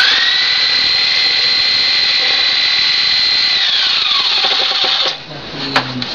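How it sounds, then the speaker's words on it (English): A Sawzall reciprocating saw cuts excess wood off a rustic bed frame, its loud steady whine holding for about five seconds before winding down as the blade stops, close up with no speech. "My sawzall so that I can just faster, and I have to cut the excess off."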